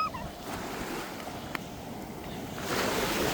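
Water gushes and splashes down at an outdoor water play area, a broad, close rushing wash that swells noticeably louder toward the end.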